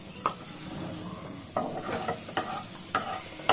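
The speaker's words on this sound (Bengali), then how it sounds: "এখানে দেখুন পেঁয়াজ আমি যে ভেজেছি বেরেস্তা, সেটা হয়ে গেছে, কি সুন্দর ভাজা হয়েছে দেখুন" Onions fried to crisp beresta sizzle in hot oil in a pot and are stirred, with soft scraping taps over a steady, quiet hiss.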